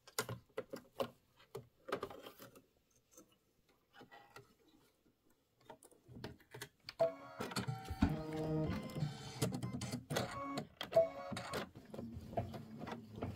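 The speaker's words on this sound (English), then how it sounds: "we've got 13 minutes of stitching." An embroidery machine works a satin stitch in linen thread on a Kimberbell nativity bench pillow block. Sparse light clicks and taps give way to a steady, loud, rapid mechanical chatter of stitching that runs continuously to the end.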